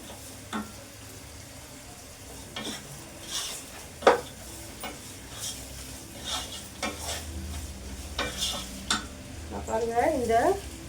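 Ingredients for chicken biryani sautéing in a pan, a low steady sizzle punctuated by scattered utensil scrapes and clinks, with a brief stretch of voice near the end.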